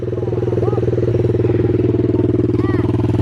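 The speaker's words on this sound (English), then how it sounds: "Your bike sounds different?" A motorcycle engine runs loud and close at a race track, holding a steady, throbbing idle with a fast pulsing rhythm and no break.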